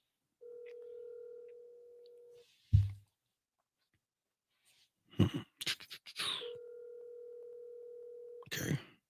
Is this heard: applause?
no